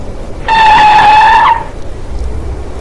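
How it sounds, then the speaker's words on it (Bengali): Car brakes slammed hard on a rainy night, giving a loud, piercing tire screech of about one second that stops abruptly, followed by low rumbling background, staged as a story sound effect. "মাধব দু চোখের পাতা বন্ধ করে জোরে গাড়ির ব্রেক কষে।"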